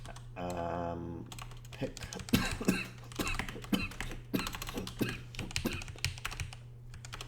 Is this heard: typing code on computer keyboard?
yes